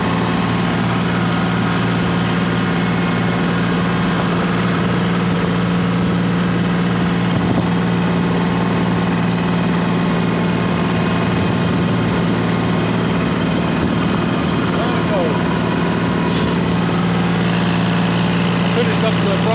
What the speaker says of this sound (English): I kind of filled this pond with snow with the snow blower